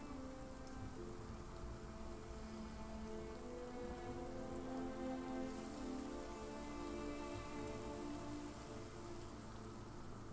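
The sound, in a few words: rain in a video game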